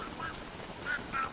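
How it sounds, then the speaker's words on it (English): Honking calls from the moose goose creature in the game Don't Starve, two or three short nasal quacks in quick succession, moderately loud over a soft ambient background. "I think the moose goose might have spawned, right?"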